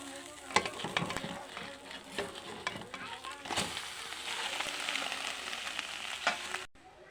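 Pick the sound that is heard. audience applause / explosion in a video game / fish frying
fish frying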